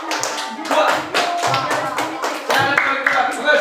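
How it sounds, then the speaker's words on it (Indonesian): Hands clap in applause for a group in a classroom, a steady, dense burst of clapping that runs throughout, with a teacher's voice speaking briefly over it. "Tepuk tangan buat kelompok"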